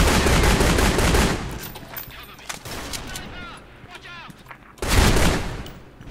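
Gunfire in the video game Special Force 2, loud close bursts of rapid shots at the start and again near the end, with quieter scattered shots and a voice in between.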